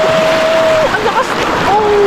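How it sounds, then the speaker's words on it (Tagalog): Strong sea waves wash and churn around a boat, a loud, steady rush of water close by with a voice calling out over it. "Grabe yung alon!"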